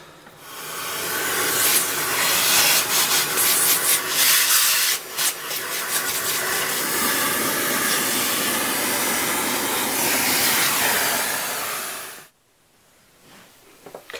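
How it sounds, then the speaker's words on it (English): A vacuum cleaner sucks dust out of a dual-core desktop computer, a loud steady hissing airflow running for about twelve seconds before cutting off abruptly, followed by faint handling noise. "Now I will try to clean, use some hoover and stuff like this."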